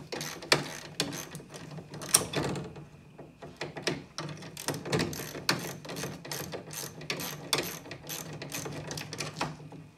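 A hand ratchet with a 10 mm socket clicks in quick bursts of repeated pawl clicks with brief pauses, close and crisp, while undoing the inside door handle of a Ford XD–XF Falcon or Fairlane.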